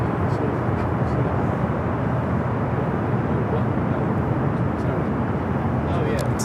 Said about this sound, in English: Cathay Pacific Cargo, that 747 arriving from Dallas